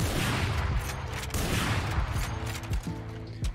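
Operator sniper rifle in the Valorant video game, heavy gunfire amid dense, loud game noise with repeated mechanical clanks, up close.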